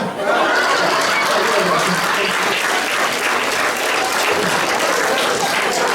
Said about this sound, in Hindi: ये ज्यादा ताली बजाओ